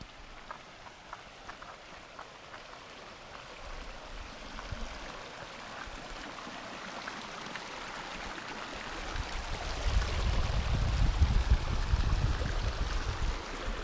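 Water trickles and babbles steadily, growing louder and fuller toward the end as if moving closer to a flowing creek.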